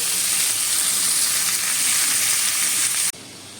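Tandoori chicken pieces, just turned over, sizzle steadily in hot oil with a loud, continuous hiss that abruptly drops to a quieter fizz near the end.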